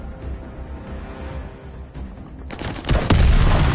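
Call of Duty Vanguard gunfire played on a PS5: quiet game ambience, then a sudden loud burst of close shots in the final second.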